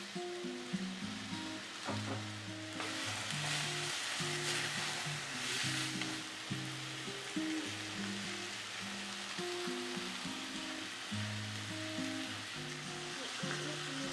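Onion, tomatoes, green chilies and garlic sauté in a pan with a steady, close sizzle that runs throughout, over a melodic backing of music.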